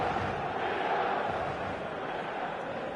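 Passionate stadium crowd at an evening football match, a broad continuous roar of many voices that holds steady and slightly eases toward the end.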